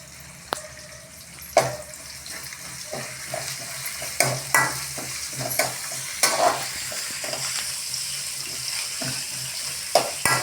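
Curry leaves hit hot oil for a mixed vegetable bhaji, giving a steady close sizzle broken by several sharp clinks and scrapes of stirring, with no talking.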